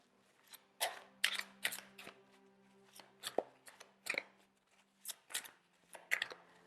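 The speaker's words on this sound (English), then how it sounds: "These are kind of hard to shuffle because they are bigger than my hands" Large tarot cards being shuffled, a dozen or so quick papery riffles and snaps in irregular bursts, close and fairly quiet, with a low hum underneath.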